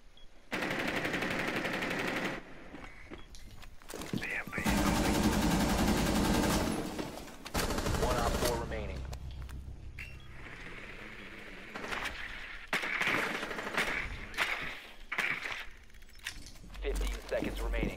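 Rainbow Six Siege gunfire: loud bursts of automatic fire and single shots in irregular clusters, close and harsh, with someone talking between and over the volleys.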